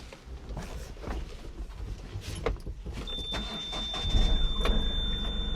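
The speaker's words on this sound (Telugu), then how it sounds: "ఒకసారి నేను ఇంజన్ స్టార్ట్ చేసి మీకు క్లియర్గా ఎక్స్ప్లెయిన్ చేస్తాను" A second-hand commercial vehicle for sale in Beeramguda, Hyderabad is started: clicks and cranking give way to an engine catching and running, the rumble growing louder toward the end with a thin high whine.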